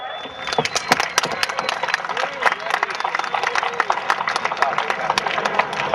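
A crowd at an NHRA Sport Compact Series and D1 drifting exhibition at Old Bridge Township Raceway Park in Englishtown, New Jersey, claps steadily with dense, crackling applause and background chatter mixed throughout.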